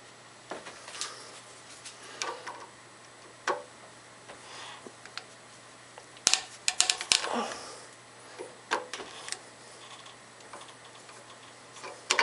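A small blade or tool scrapes and clicks against a vacuum breaker screw in short irregular bursts, faint and close, with a few sharper metallic ticks midway.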